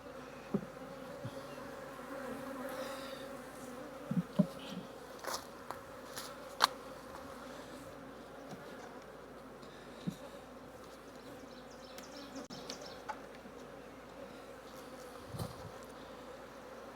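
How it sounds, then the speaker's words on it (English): Honey bees hum and buzz steadily from an opened hive holding a small population on about three frames, with a few soft knocks and clicks of handling mixed in. "Little population of bees. 3 frames or so."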